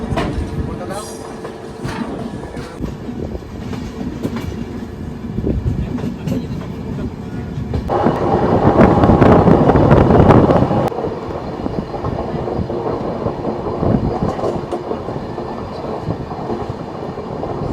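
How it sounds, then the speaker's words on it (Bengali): The 18047 Amaravati Express runs through jungle near Dudhsagar with a continuous close rumble and clatter of wheels on rails. The noise swells louder for a few seconds midway, and voices can be heard faintly beneath it. "জঙ্গলের মধ্যে একটা গলি, সেই গলি দিয়ে যাচ্ছে আমাদের ট্রেন"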